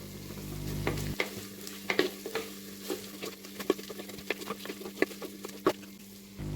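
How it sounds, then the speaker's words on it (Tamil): Green chillies frying with mint leaves for a clay-pot mutton biryani, stirred with repeated sharp scraping clicks of the spoon over a steady close sizzle. "இதையும் நல்லா கிளறி விட்டுருவோம்"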